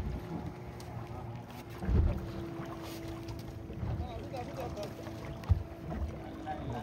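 A fishing boat manoeuvring in reverse on the open sea during a deep-sea fishing competition gives off a low, steady engine rumble with wind buffeting, a few soft thumps, and people talking nearby.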